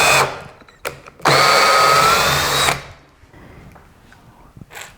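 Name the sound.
cordless screwdriver driving and removing a screw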